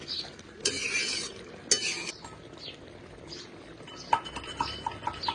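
A spoon stirs rohu fish pieces into a thickened tomato curry in a pan. Soft, scattered scrapes and clinks come over a faint sizzle, with a few sharper taps near the end.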